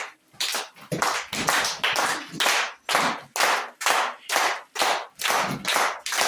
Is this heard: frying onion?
no